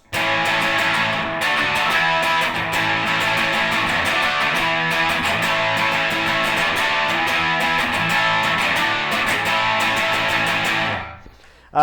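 A bright, gritty electric guitar hammers out early punk chords over drums, loud and steady, before cutting off abruptly near the end.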